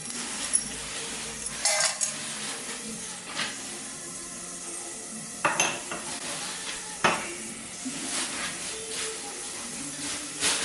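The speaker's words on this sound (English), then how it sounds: "So that's going to sizzle for a little while." Cinnamon sticks, cardamom and cloves sizzle softly in a hot pan while utensils clink and scrape against it in occasional sharp knocks.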